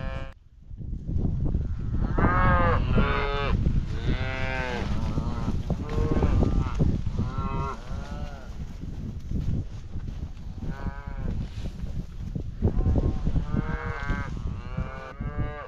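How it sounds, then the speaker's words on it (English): Cows and Charolais cross calves moo loudly and close by at feeding time, with long, repeated calls overlapping one another almost continuously, and no one talking. "We gotta get these cows fed here and try to get a head count on these calves."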